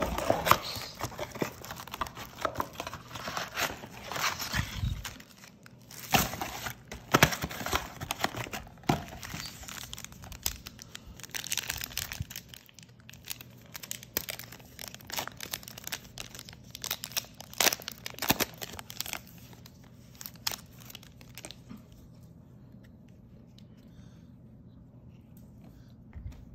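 Plastic wrappers of 2019/20 Panini Prizm NBA blaster box card packs crinkling and tearing open up close, with continuous rustling, sharp rips and card shuffling that fade out near the end.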